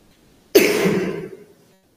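A single sharp, close cough breaks into a rough throat clearing that trails off over about a second, alone in an otherwise quiet room during a spoken lecture.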